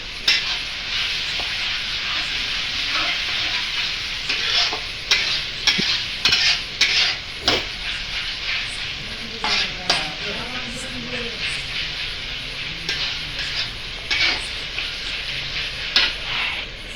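Spices being stirred in a frying pan while cooking: a steady sizzle and hiss runs throughout, with repeated scraping and clinking stirring strokes, close and fairly loud.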